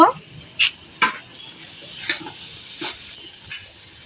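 Fish frying in a pan with garlic, onion and chili, giving a soft steady sizzle broken by a few sharp spatula scrapes and stirring clinks, close by with no talking.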